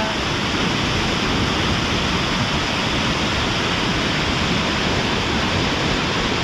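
Water rushes continuously over a small watershed check dam during monsoon rain in Konkan, making a loud, steady, close roar with no pauses.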